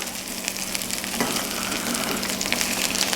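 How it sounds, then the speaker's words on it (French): A piece of meat sizzles steadily in a hot pan with rosemary and garlic, a continuous close frying hiss with small crackles throughout and no talking. "Et je la laisse griller pendant quelques minutes"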